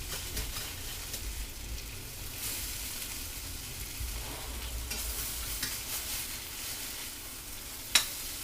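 Homemade hash browns sizzle in butter in a pan, a steady bright crackle with occasional scraping from a spatula and one sharp clink near the end; no one talks.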